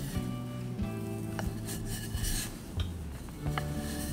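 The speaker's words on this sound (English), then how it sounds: "we cover the dough, the work surface, and the rolling pin with flour so the dough doesn't stick to anything when we roll it out" A floured rolling pin rolls out pie dough for a turkey quiche on a floured work surface. The rubbing is continuous and soft, with a faint tonal hum behind it.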